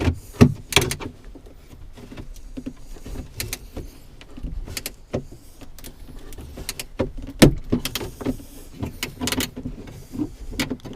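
Plastic door handle on a GMC Sierra being pried off and snapping, a run of sharp cracks, clicks and rattling knocks recurring close up over steady low hum, with no speech.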